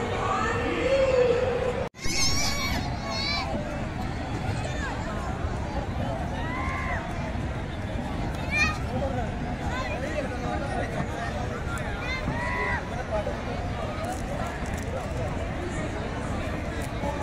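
A huge crowd at an outdoor bhajan evening event fills the air with steady babble and shouting voices, with one loud sharp knock early on and scattered calls rising above the hum.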